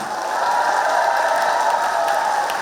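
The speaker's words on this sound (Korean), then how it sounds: "원하시면 크게 한번 박수 주세요" Applause from a concert audience in Hadong, steady and sustained for a couple of seconds, a broad wash of clapping with no voices on top.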